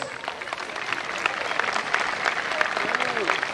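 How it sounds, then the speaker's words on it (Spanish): Audience applause at a carnival presentation in an amphitheatre in Federación, a steady crackle of many clapping hands heard from a distance with crowd murmur. "más fuerte los aplausos"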